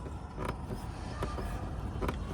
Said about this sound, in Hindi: ये साउंड ना, साउंड करने लग गया है इसका ग्रैब हैंडल।